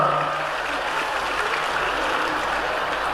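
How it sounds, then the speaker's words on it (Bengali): An audience at a government service-distribution ceremony in Murshidabad claps steadily. The applause is thick and evenly sustained, and no voices rise above it. "এদের জন্য কিন্তু একটা জোরে করতালি দেওয়া দরকার"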